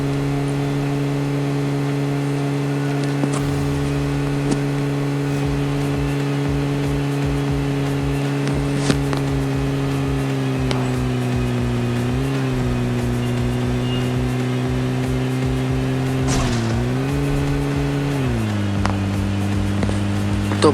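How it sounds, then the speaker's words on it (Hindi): A buggy in the video game PUBG drives over rough ground and makes a big jump, its engine droning steadily throughout with pitch shifts as it revs and lands, loud and continuous with no talk. "यहाँ पर बग्गी ने बहुत बड़ा जंप किया फिर भी पलटी नहीं।"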